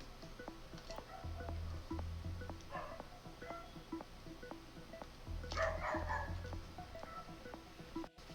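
A dog barks faintly in the distance, giving a few scattered barks over a steady low hum in a quiet indoor room.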